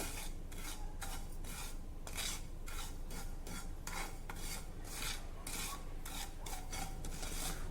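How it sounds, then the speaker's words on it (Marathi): Ajwain (carom seeds) dry roasting in a pan over a low flame, with steady, repeated dry scraping and rasping stir strokes running throughout at an even level, no voices. "अगदी मंद गॅसवर हा ओवा देखील आपल्याला भाजून घ्यायचा आहे।"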